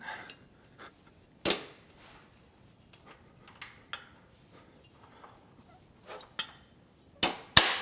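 Bolts being tightened on a Body Solid EXM3000 gym machine during assembly, heard as sparse, sharp metallic clicks and clanks spaced irregularly in a quiet room, with a few louder knocks near the start and end.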